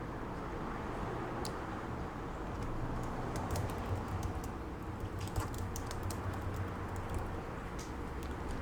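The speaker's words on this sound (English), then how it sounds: "My keyboard is just fighting me right now." Fingers tap on a computer keyboard in scattered quick clicks, some in brief bursts, over a steady low room hum, close and moderately quiet.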